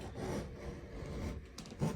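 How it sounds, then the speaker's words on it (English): A small Harbor Freight scraper scrapes silicone caulk off a surface during a shower install, giving a steady rough rubbing rasp for about two seconds and ending in a brief louder scrape, close by with no talk. "you can use this to scrape silicone off of like aluminum surfaces, plastic"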